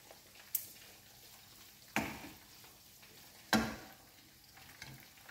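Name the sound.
chicken frying in a pan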